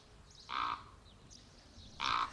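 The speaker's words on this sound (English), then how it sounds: "The cliff is home to a large colony of common ravens" Common ravens calling at a cliff colony in Porto Venere, Liguria: two short harsh croaks about a second and a half apart, moderately distant over quiet ambient air.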